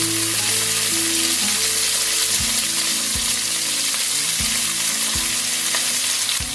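Garlic and two medium sliced onions sizzle steadily in a hot pan, a continuous bright frying hiss with scraping stirs at regular intervals, loud and close, with no voices.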